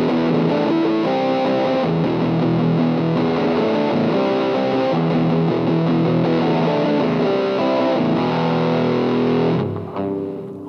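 With a Boss DS-2 Turbo Distortion pedal at 100% distortion, an electric guitar churns out dense, heavily fuzzed chords that ring loud and unbroken before stopping sharply at the close.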